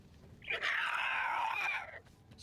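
A voice imitates the shrill, wavering screech of the creature Glomglut taking to the sky during a Critical Role Dungeons & Dragons session, one sustained cry of over a second, loud and close.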